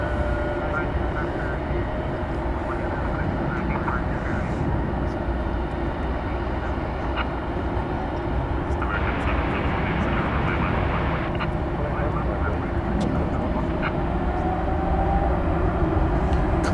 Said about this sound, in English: It's an Airbus A320neo.